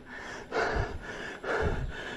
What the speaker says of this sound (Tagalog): Hingal kabayo ko.